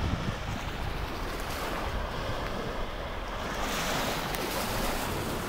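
Ocean waves on the California coast, a steady close roar of surf mixed with wind buffeting the microphone, continuous and fairly loud with no voices.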